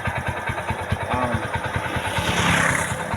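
A new TVS King Deluxe engine runs close by with a rapid, steady pulsing putter, rising briefly as it is revved near the end.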